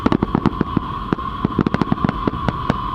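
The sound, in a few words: fireworks exploding at Burning Man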